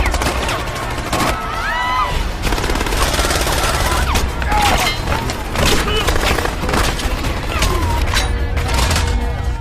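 A film shootout in which dense, loud gunfire fills the scene with rapid overlapping shots and booming impacts, continuing steadily without a break.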